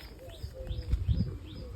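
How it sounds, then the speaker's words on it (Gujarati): Pigeons kept in a home loft call softly nearby, with faint repeated chirps and low cooing murmurs against quiet background noise. "કબૂતર છે સામે"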